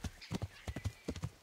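Horse hooves clip-clop in a steady trotting rhythm across Kingdom Come: Deliverance terrain, close and fairly loud, with a brief whinny-like tone mixed in.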